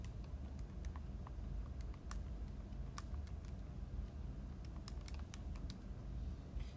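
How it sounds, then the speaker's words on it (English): Calculator keys are tapped in a quick, uneven series of faint clicks over a constant low background hum, close by and soft. "Okay, then we type this in our calculator."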